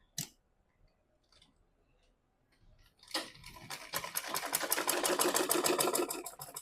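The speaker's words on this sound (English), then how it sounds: "So I'm going to place it there and I'll sew it straight." A sewing machine runs a straight seam along a gown after a few faint clicks, its rapid, even stitching rising loud and steady for the last few seconds.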